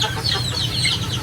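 A chicken clucks in a quick, close series of short calls, heard alone with no talk.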